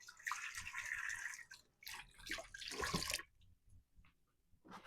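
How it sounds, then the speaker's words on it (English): Hands rinsed under a running kitchen tap while baking cookies, a faint close splashing of water that breaks off partway, followed by quiet handling and a few soft drips. "Rinse my hands off so I can put those in the oven."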